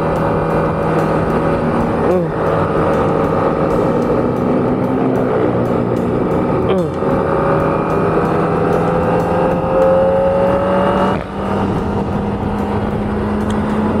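An Aprilia RS 660 parallel-twin motorcycle engine drones steadily under way, its pitch rising and falling through gear changes, loud and continuous against wind and road noise.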